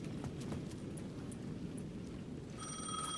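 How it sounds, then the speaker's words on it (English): Payphone at the edge of a plaza in the video game Alan Wake 2 begins ringing near the end, a bright electronic ring that cuts in after a steady bed of rain and patter. "The payphone at the edge of the plaza was ringing again"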